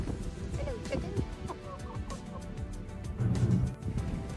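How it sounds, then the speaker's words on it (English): A friendly farm chicken clucks in short soft bursts close by, joined by other hens, with light outdoor background noise and a brief louder scuffle near the end. "I come across a very friendly chicken that doesn't seem fazed by me whatsoever."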